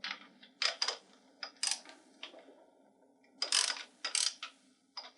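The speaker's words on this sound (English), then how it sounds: "tighten the top nut." Tightening the top nut on a torsion spring bracket during a two-spring garage door conversion gives short bursts of close mechanical clicking and ratcheting, separated by quiet pauses.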